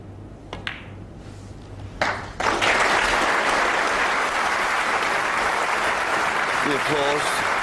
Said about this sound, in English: The applause tells you that the frame is over